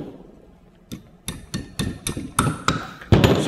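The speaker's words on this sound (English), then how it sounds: "I'm gonna take a drift pin and drive the pin out" Steel hammer striking a drift pin to drive it out of a rusted, corroded brake caliper, about eight sharp metallic blows that grow louder and quicker, close up with no talk.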